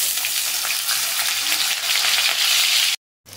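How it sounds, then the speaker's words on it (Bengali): Bananas fry in oil in a wok with a loud, steady hiss and crackle close up, then the sound cuts out abruptly and returns more faintly. "এবার কলাগুলোকে আমি ভেজে নেবো একটু লাল করে"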